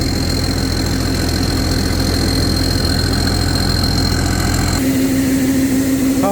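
A new engine on a rice combine harvester, fitted with a new pump and motor, idles with a constant low rumble and a steady tonal whine, shifting to a slightly different pitch near the end.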